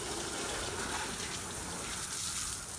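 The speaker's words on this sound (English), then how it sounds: "I got the hose here, you want to spray it down really nice and easy to get a lot of the loose debris" A garden hose sprays water over a car's tires and wheels, producing a soft, continuous hiss and splash without pause.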